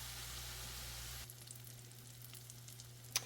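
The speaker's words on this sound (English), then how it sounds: "I'm going to go ahead and stir in all this garlic here" Garlic sizzling in a pan, a soft steady fizz close by at low volume that thins out partway through, with a faint stir or scrape near the end and no talking.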